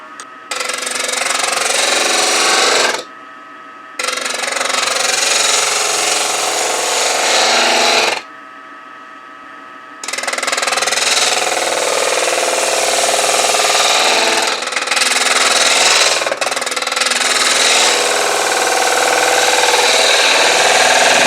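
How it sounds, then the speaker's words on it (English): A sharp spindle gouge skims the bottom of a wooden jewelry box concave on a wood lathe, giving a loud, steady rushing whir that breaks off twice for short pauses before resuming. "we're going to use that just enough to skim the bottom, get it concave using a sharp spindle gouge"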